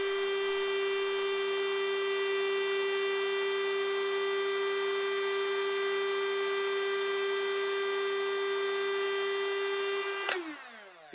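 A heat shrink hot air gun on a stand blows steadily with a strong, constant electric whine and hum, then switches off near the end and the tone drops away.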